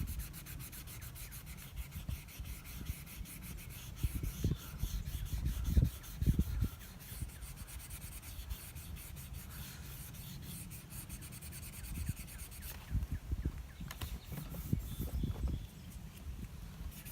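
Sandpaper on a flexible backing rubbing over primer on an Iron Mockingbird guitar body, with close, dry back-and-forth scraping strokes in uneven bursts that come and go.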